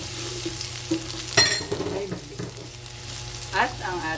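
Onion goes into a hot pan with fish and ginger for ginataang tilapia, a sudden loud burst of sizzle followed by stirring scrapes and clatter over a continuous frying hiss.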